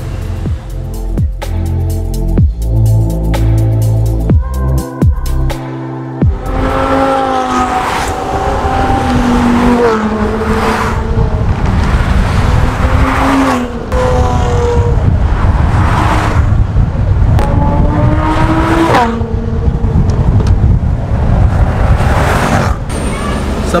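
Supercars including a Huracan and an Aston Martin roar past one after another, loud revving engines with rising and falling pitch and crackling bursts, under excited voices.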